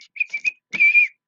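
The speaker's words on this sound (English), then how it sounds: "I love to whistle." A person whistles alone, close and clear: three short chirped notes followed by one longer held note.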